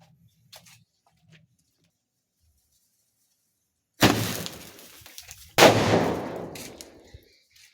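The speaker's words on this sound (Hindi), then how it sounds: "अभी फायर करना शुरू करते हैं" After a long near-silence, a gun fires two loud, sharp rounds about a second and a half apart in a homemade science experiment. Each blast leaves a rough, fading tail.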